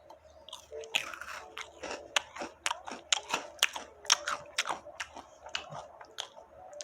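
Close, crisp crunching and biting of an almond-shaped Pepero snack made from corn-chip (Kkokkalcorn) flavor, a rapid run of crackly chews filling the clip with no talking.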